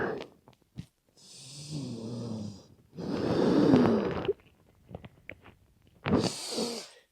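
A long, audible exhale during a breathwork exercise while folding forward, given as several breathy bursts with short pauses between them, close and clear.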